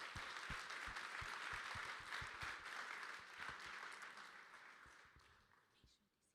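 A conference plenary audience claps together, dense clapping that is fairly distant and faint, gradually thinning and fading out toward the end.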